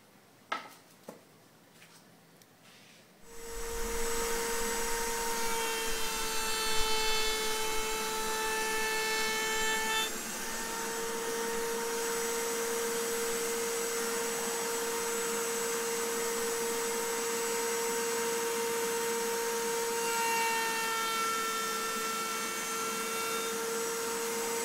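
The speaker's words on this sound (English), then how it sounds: "I'm going to cut a little test piece on this little hunk of walnut here" A power tool cuts a small test piece of walnut for a music box lid, starting after a few seconds of quiet handling and then running as a loud, steady high-pitched whine with a slight dip in pitch midway, no talk.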